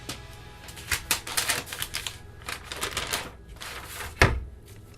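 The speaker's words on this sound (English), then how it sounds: "Whoops, I gotta undo the tape over here." Tape is peeled off a soap mold holding an all-natural citrus soap bar, making close, quick rasping rips in short bursts, with a sharper knock near the end.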